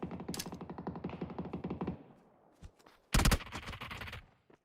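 P90 submachine gun fire in the video game PUBG: a fast, loud automatic burst of evenly spaced shots for about two seconds, then silence, a couple of faint pops and one sharp, louder crack with a trailing echo.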